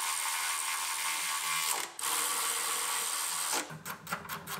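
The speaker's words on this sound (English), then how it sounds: "And we'll use a ratcheting wrench on this one" A ratcheting wrench tightens bolts on a Mustang engine being refitted after paint, giving rapid close clicking bursts, a long steady run followed by several short choppy strokes near the end, with no talking.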